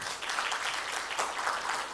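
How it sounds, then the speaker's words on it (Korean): Congregation clapping in a church, a dense, steady round of applause that carries on evenly for about two seconds without a pause. "네, 박수."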